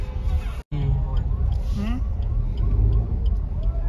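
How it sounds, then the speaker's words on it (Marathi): A road jammed with traffic after an accident gives a steady roar of idling and creeping vehicles, with a brief horn-like tone and voices talking over the din. "ऍक्सिडेंट झाल्यामुळे खूप मोठी ट्रॅफिक लागलेली आहे."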